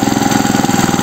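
A walk-behind tractor engine idles at a raised idle speed, its loud, steady, fast-pulsing chug close by with no talking.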